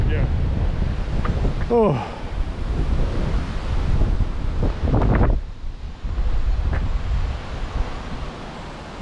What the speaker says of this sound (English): Ooh, hold on to the hat, this is all getting a bit blowy.